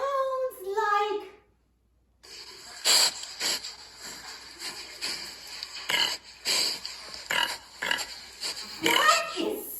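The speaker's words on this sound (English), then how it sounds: "That sound is the sound of a pig." Pig oinking and snorting in a rapid series of grunts and squeals close to the microphone, following a voice at the start and a brief pause.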